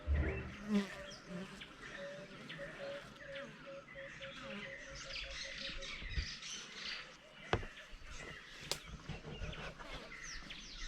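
Bees around a traditional African wild beehive, a steady buzzing drone with bird chirps scattered through the outdoor background and a few sharp knocks.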